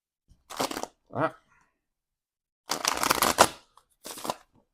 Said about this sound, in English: This is a big, thick deck of cards, and I've got big hands, but even then, they're tricky to shuffle.